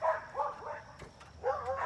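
A dog barks and yips several times in short bursts at a moderate distance outdoors on a flower farm, with a brief pause mid-clip before more barking resumes.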